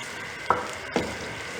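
Onions browning in a karahi for restaurant-style mutton karahi, with a steady background sizzle and two distinct spoon strokes scraping and stirring the pan, no talk.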